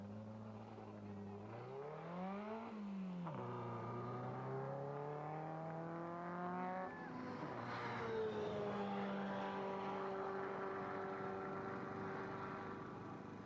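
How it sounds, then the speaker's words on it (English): A Rover Metro race car accelerates away from a pit stop during an endurance record-break run, its engine note rising through several gears and fading, with a commentator talking over it. "within 53 seconds we have hands in the air and the car is on its way once again"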